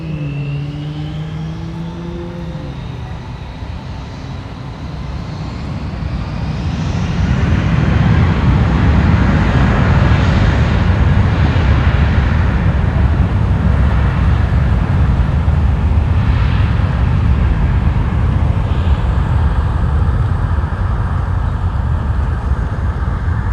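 A Volaris airliner takes off at Los Angeles International Airport, its jet engines spooling up from a whining tone into a loud, sustained broadband roar that holds steady, heard from the airfield vantage.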